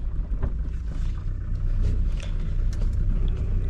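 A Polonez GLI car driving, its engine giving a steady low rumble with road and wind noise from inside the cabin, continuous and fairly loud, with no talking.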